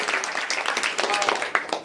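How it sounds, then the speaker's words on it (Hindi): Children applaud a little girl who has just recited a tongue twister, a short burst of dense, close clapping with voices mixed in. "ताली बजाओ उनके लिए।"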